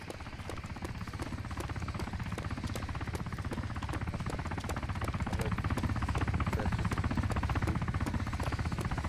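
A KA-60 helicopter in a video game, its rotor chopping in a fast regular thump with a steady engine drone, close and gradually growing louder throughout.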